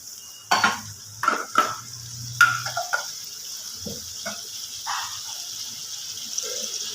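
Water poured into a hot pan of cauliflower and potato curry with bhetki fish sets off a steady hiss and sizzle, broken by a few close clinks and scrapes of a utensil against the pan.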